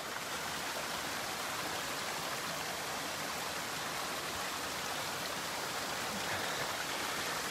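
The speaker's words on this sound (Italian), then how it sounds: "hay la fontana ovale" Steady rush of falling and splashing water at the Oval Fountain, Villa d'Este in Tivoli, a dense continuous roar close by with no voices.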